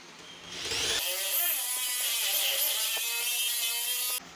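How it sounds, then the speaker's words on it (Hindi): An electric drill fitted with a six-suter bit bores a hole through a wooden door for a lock, giving a steady high whine that starts sharply, runs for about three seconds close and clear, then cuts off abruptly. "ड्रिल से हम छः सूत्र का बर्मा लगाएंगे"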